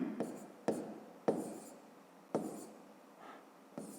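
Pen strokes writing out a column subtraction of millions in a fifth-grade maths exercise, a few separate scratchy bursts close up, with quiet gaps between them.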